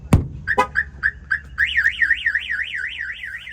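The alarm of a Ram 2500 pickup blares nearby, starting with a few repeated beeps and then switching to a loud, warbling siren that rises and falls steadily.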